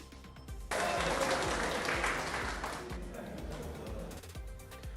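A crowd applauds as ministers receive COVID-19 vaccinations, the clapping starting suddenly, staying dense and steady, then fading slightly over several seconds.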